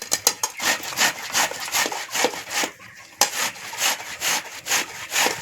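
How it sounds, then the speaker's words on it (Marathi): A wild Ayurvedic vegetable is grated finely by hand in quick, rhythmic rasping strokes, close and fairly loud, with a brief pause midway before the scraping resumes. "आता आपण असा बारीक किस करून घ्यायचा"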